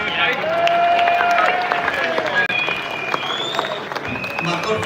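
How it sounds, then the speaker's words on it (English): Crowd at an outdoor protest in London applauding, a broad spread of clapping and some cheering carried on for several seconds, with voices and whistle-like tones rising over it. "for these guys I think they deserve a massive round of applause"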